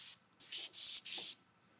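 An airbrush sprays in short stippling bursts, four quick hissing puffs of air in a brisk rhythm, close and fairly quiet, with no one talking.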